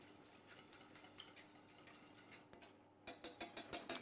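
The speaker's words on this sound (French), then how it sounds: "Je vais juste récupérer un fouet. Et voilà. Fouetter un tout petit peu, juste pour l'aider à se délayer dans l'eau." A whisk stirs bouillon into water in a kitchen pan, giving soft, quiet scraping and ticking that turns into a brisker run of rhythmic clinks near the end.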